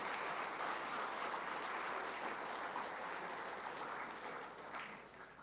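An audience at a tech conference's closing keynote claps together in a steady burst of applause that fades slightly toward the end.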